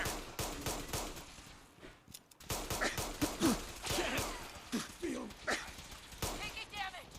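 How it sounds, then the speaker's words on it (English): Gunfire from the video game Fallout 4 during a Brotherhood of Steel firefight, with repeated sharp bursts and shots all through the clip, mixed with a player talking over the action. "Taking fire."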